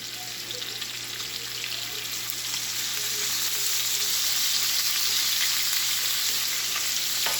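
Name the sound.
sausage and minced garlic frying in pan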